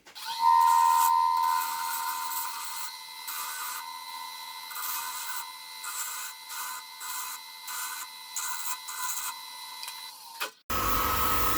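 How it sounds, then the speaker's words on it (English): A power sander works over soft, punky rotten wood, a steady whining buzz with slight variations in pressure that runs for about ten seconds before cutting off abruptly. "So I'm going to try to give that a quick sand"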